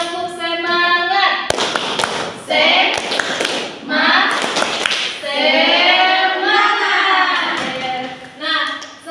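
A classroom of children performs a rhythmic clapping routine, with bursts of sharp hand claps in quick patterns mixed with loud group chanting voices throughout.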